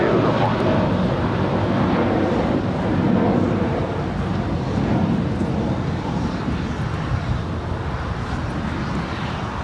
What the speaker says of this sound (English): That was American 804 departing to Charlotte. It's an A321.